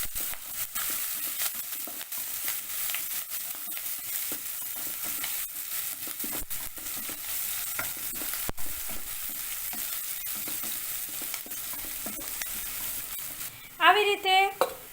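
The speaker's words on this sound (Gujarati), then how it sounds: "અને જે આપણે મરચાં અને આદુની કટકી કરી હતી તે ઉમેરી દેશું. સરસ મિક્સ કરી લેવું." Chopped chillies and ginger sizzle steadily in a hot pan while being stirred, a soft, continuous frying hiss with scattered scraping, ending with a brief louder clatter near the close.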